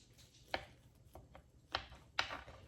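A knife slicing into an apple skillet cake gives a few quiet, sharp taps and crunches against the skillet, spaced irregularly with two stronger cuts near the end in a hushed kitchen.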